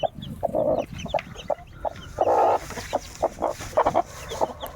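A hen clucks among newly hatched chicks on the twenty-first day of incubation, with repeated short clucks and brief chirps close by, steady and fairly loud, with no talking.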